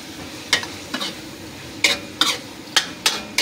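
Pansit canton, or pansit gisado, loaded with toppings being stir-fried in a pan, with a soft sizzle underneath a string of sharp scraping and tapping strokes from the utensil, spaced irregularly and close.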